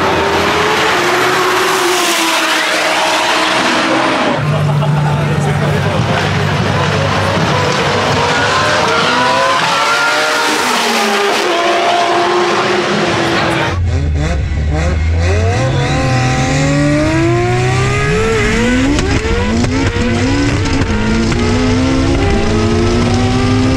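A Mitsubishi Evo 8 MR launches hard in a roll race, its engine revving loud and close and climbing through several gear changes with rising, falling pitch sweeps, and a brief rough burst as another pass begins.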